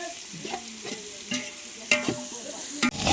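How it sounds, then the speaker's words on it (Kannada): Onions frying in a pot for chicken biryani: a steady close sizzle with repeated scraping and clinking stirs from a ladle at irregular intervals. "ಈರುಳ್ಳಿ ಹಾಕೊಂಡು ಇವಾಗ ಫ್ರೈ ಮಾಡ್ತಾಯಿದ್ದೀವಿ"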